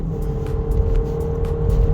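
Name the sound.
Ford Fusion 1.5 EcoBoost accelerating from zero uphill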